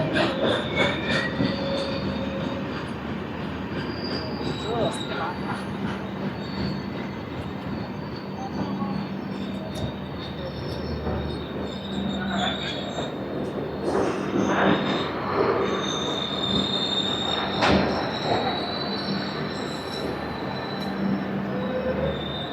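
Repalle Express 17645 train pulling into Bhattiprolu station, with steady rumbling rail noise, wheels squealing against the track and scattered clatter throughout, loud and continuous, with faint voices now and then.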